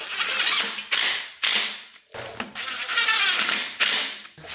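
A ratchet tightens a radiator fitting on a Kawasaki ZX14 motorcycle being rebuilt after a wreck: several close, loud bursts of rapid clicking, each lasting about a second, separated by short pauses.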